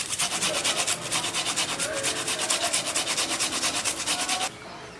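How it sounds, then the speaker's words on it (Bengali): Ginger is grated finely for cabbage chops, with a fast, even rhythm of close rasping strokes, about six a second, that stops sharply near the end. No speech. "একটু আদা নিয়েছি দেখো, আর সুন্দর করে একটু ঝুড়ি করে দিয়ে দিচ্ছি।"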